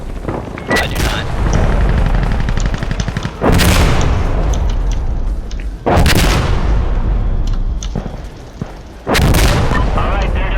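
Artillery fire in the shooter game Insurgency Sandstorm, with several heavy booming blasts landing a few seconds apart, loud and close, each one followed by a long rumbling roar.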